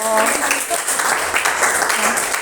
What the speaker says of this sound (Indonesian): Kita beri aplaus, Masya Allah